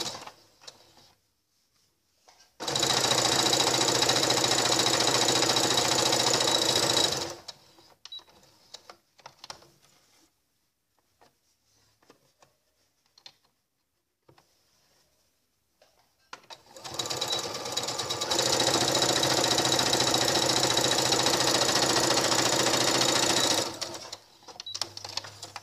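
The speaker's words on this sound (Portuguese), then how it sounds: "Costurei as duas peças e deixei aqui uma abertura." A sewing machine stitches together pieces of a lined thermal lunch bag. Two long runs of fast, even whirring and clattering are separated by a quiet stretch with faint handling noises.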